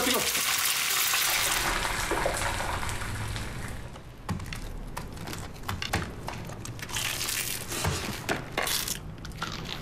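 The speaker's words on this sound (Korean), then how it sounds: "그 치킨을 팔자. 다 튀겨봐. 다 튀겨." Chicken deep-frying in a busy restaurant kitchen, a loud steady sizzle of hot oil that fades slightly, then continues with clattering and scraping bursts throughout.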